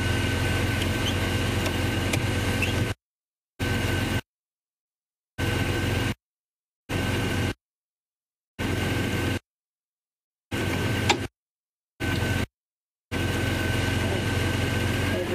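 A car engine idles with a steady low hum, heard in several separate stretches broken by silent gaps.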